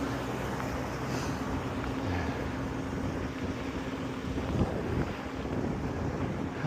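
Steady, rushing wind buffets the microphone throughout, a constant broadband roar with slight swells and no voices.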